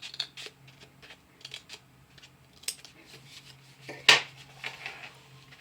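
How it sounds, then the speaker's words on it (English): Scissors cutting paper for origami trees, a series of close snips and soft crunching cuts with one sharper louder snip near the end, amid quiet handling noise. "start cutting again"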